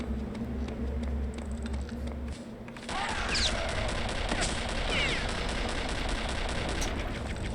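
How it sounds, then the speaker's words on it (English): Bursts of gunfire crack out amid a busy Return to Castle Wolfenstein game soundscape, rapid shots rattling at a distance over a continuous background rumble. "Hear a lot of gunfire."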